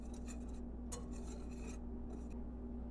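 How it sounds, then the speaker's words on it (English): Flour, baking powder and salt being whisked together in a bowl for peanut butter bread, giving quiet, rapid scratchy rasping strokes in short bursts with pauses, close up over a low steady hum. "Just whisk that together just to kind of lighten it up a little bit."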